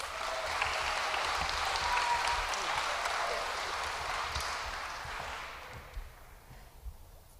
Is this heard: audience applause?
yes